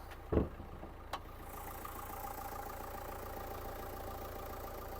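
A Dacia Sandero car engine idling with the bonnet open, a steady low hum running evenly after a couple of brief knocks at the start.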